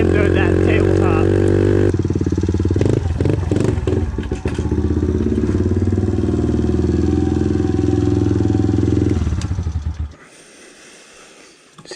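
A Kawasaki KLX110 dirt bike engine runs loud and close with a steady low rumbling idle and some clattering, then cuts out, leaving near silence for the last couple of seconds.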